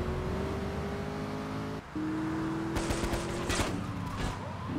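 Police gunfire in GTA III The Definitive Edition, several rapid shots in the second half cutting through a loud, constant car engine drone.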